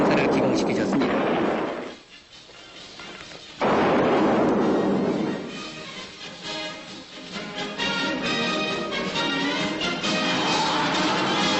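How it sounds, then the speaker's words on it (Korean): Dynamite blasting rock on a mountain pass at the ground-breaking of a road-widening project, heard as a loud, booming explosion followed by a second heavy blast and rumbling debris, under a narrator's voice on an old film soundtrack. "이 고개의 암석을 폭발시키는 다이너마이트 장치에 스위치를 손수 누르시어 이 뜻깊은 공사를 기공시키셨습니다"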